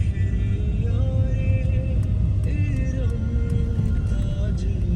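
A car drives along a road at night: a steady low engine and road rumble throughout, heard from inside the vehicle, with faint talk and tonal sounds over it.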